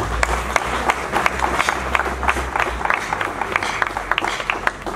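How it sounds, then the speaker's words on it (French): Audience applause after a tribute at a stadium event featuring Fally Ipupa, a dense, steady patter of many hands clapping with irregular sharp claps over a low rumble, filling the whole stretch. "Je crois que Trésor Lomana Lwalwa mérite plus que ses applaudissements"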